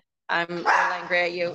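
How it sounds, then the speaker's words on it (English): A pet dog vocalizes indoors in a close, loud burst of a second or so, with a drawn-out, wavering barking whine. "That's my dog."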